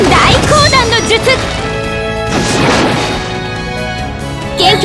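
A heavy watery crash and whooshing burst of a water cannonball jutsu attack in the video game Naruto Online, with a voice calling out at the start amid game music and effects.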